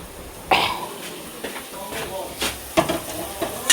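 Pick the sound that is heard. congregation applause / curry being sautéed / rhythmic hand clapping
curry being sautéed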